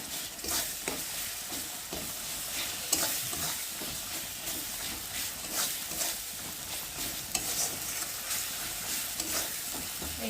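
Spices with a pinch of asafoetida stir-fried in a pan for khichuri, a steady sizzle broken by repeated scraping stirs from a spatula, close and continuous with no voices.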